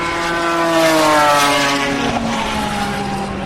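The second Lotus Evora race car, number 64, passes at Le Mans with a loud, high engine whine that slides downward in pitch as it goes by, steady and alone.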